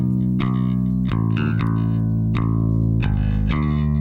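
Electric guitar through a compressed amp blended with a clean DI signal, playing a steady sequence of sustained chords with crisp picked attacks, loud and close with no talking.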